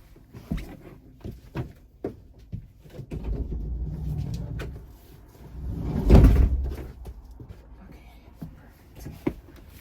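The side door of a camper van slides and thuds shut, with a rumble and a solid closing knock in the middle, surrounded by scattered small clicks and handling noises. No one speaks.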